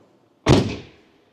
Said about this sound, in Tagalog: Sarado natin pinto